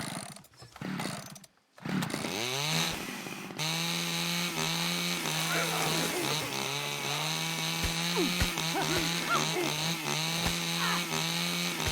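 Chainsaw weapon in a video game roars in a steady, loud drone after a brief sputtering start, running continuously with revving fluctuations and no talk over it.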